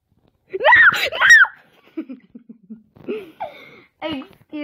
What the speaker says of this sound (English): Excuse all the screaming.